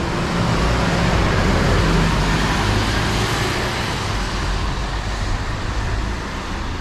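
A Scania coach on Bus Éireann's 240 service to Cork pulls away at an Irish railway station, its steady engine rumble and road noise loud and close throughout, easing slightly toward the end.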